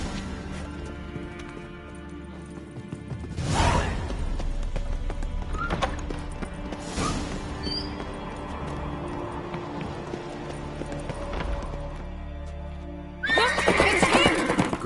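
Horses neighing and galloping in Skellige within a video game, with loud whinnies rising at the start, middle and end over a steady clatter of hooves and background score.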